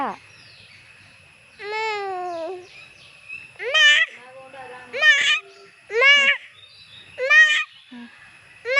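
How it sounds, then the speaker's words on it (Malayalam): A cat meows repeatedly, five or six short rising cries spaced a second or so apart, close and clear against a quiet background. "ഇതാണ് നിച്ചുമോൻ്റെ പൂച്ച"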